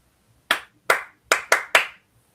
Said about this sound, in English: Okay, you still get the Mick Jagger clap.